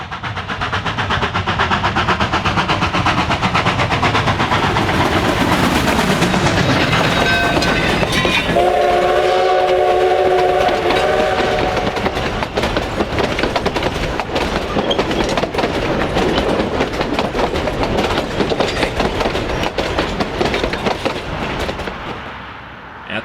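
Coal-powered K-class steam locomotive 481 runs out of the Durango, Colorado yard with a loud, sustained rumble and rolling clatter, its whistle sounding a long, prolonged blast near the middle.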